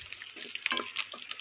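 Crushed garlic frying in a pan for a mutton pickle gives a faint, quiet sizzle with a few light stirring scrapes over a brief moment, and no voices.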